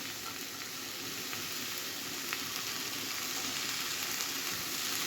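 Cabbage filling fries in a pan with a steady, close sizzle throughout, while faint scrapes of stirring rise now and then under the hiss.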